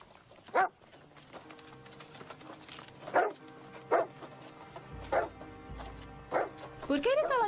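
Dog barking in a dramatic film scene, with a series of sharp, separated barks at irregular intervals over a background music score, moderately close.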